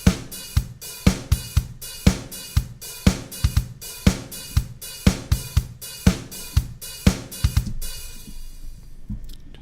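A programmed disco drum loop plays alone in a music production program, with a steady, evenly spaced kick and snare pattern under constant hi-hats and a cymbal wash ringing out at the end.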